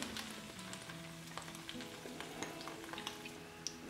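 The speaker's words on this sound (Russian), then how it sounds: "Томаты начали кипеть." Quiet, steady sizzling of food frying in a pan, with small pops and crackles scattered throughout.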